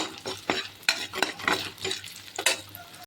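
Urad dal and chana dal roasting in a pan are stirred briskly, giving close gritty scrapes and rustles over a faint low sizzle, with no talking.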